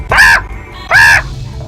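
Two loud, harsh caws from a bird in the Frogger video game, each lasting about a quarter second and separated by a short gap, with a faint low hum between them.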